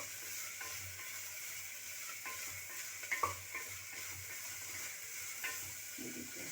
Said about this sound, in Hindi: अब इसको हम हल्का सा रोस्ट करेंगे, फ्राई करेंगे।